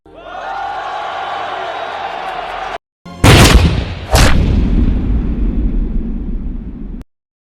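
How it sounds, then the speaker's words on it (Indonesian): In a film scene, a crowd cheers and murmurs, then two sharp, loud gunshots crack in quick succession, followed by a tumult of rioting noise that cuts off abruptly. "Di tengah surak gembira kemenangan Ip Man, terdengar suara tembakan."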